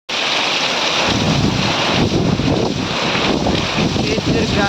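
Strong wind gusts and buffets the microphone in a loud, continuous roar, rising and falling in waves, with no clear speech.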